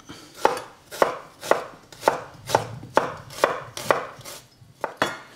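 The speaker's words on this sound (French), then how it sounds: "je vais commencer à émincer donc mon oignon, enfin les trois petits oignons, mais sinon un oignon et l'échalote." A knife finely chops small onions, a shallot and garlic on a board, about ten crisp, evenly spaced thuds close by, unhurried and steady with no talking.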